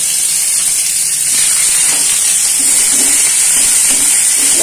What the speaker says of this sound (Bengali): পেঁয়াজগুলো একটু লাল লাল করে ভাজা ভাজা করব